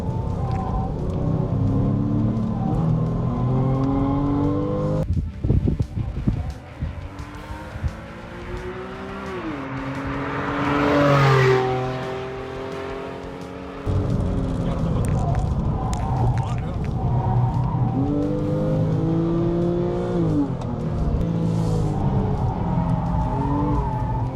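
A Porsche driven on ice gives a loud engine note that rises and falls in repeated revving surges, with sliding and tire noise between them and a sharp drop around the middle. People talk over parts of it.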